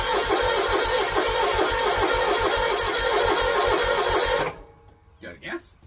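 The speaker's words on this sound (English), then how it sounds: "Snapper Pro walk behind first start of the season." Snapper Pro walk-behind lawnmower firing up for the first start of the season, a loud steady engine roar for about four and a half seconds that cuts off abruptly, followed by brief quiet talk.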